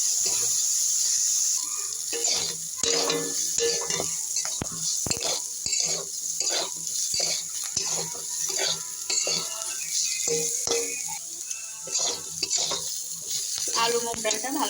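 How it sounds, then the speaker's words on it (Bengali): Onion, chilli and potato frying in oil with salt and mung dal, giving a steady close sizzle with intermittent stirring and scraping sounds over the whole stretch. "আমি এবার পেঁয়াজ লঙ্কা আর আলুটাকে দিয়ে দেবো তেলে।"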